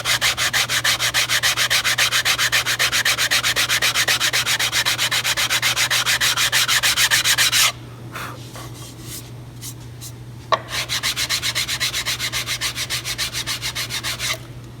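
A sanding block rubs back and forth over a delicate wood veneer inlay in fast, even rasping strokes, close and steady, pausing for several seconds midway with light handling noises before the strokes resume.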